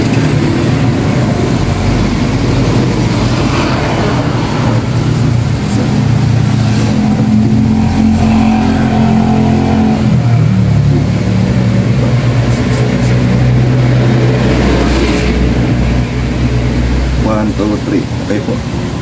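A secondhand motorcycle engine runs and revs in a steady, loud drone with rising and falling pitch through the clip, while people talk over it intermittently.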